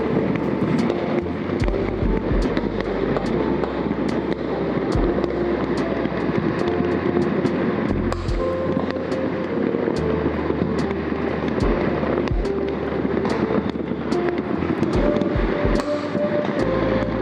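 New Year fireworks burst over Manila in a dense, continuous barrage, with sharp booms and crackles coming in quick succession against a constant loud roar.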